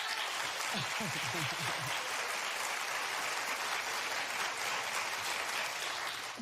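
A steady wash of clapping from a television talk show studio audience fills the whole stretch, with a voice briefly audible near the start.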